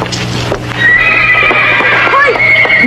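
A horse neighs loudly in a long, wavering whinny, with hoof clip-clops and a steady low hum beneath it, close and prominent throughout.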